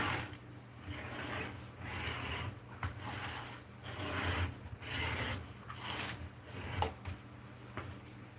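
Leather belt edges being beveled by hand, a dry, repeated scraping and rasping in short strokes, close up and fairly quiet with no talking.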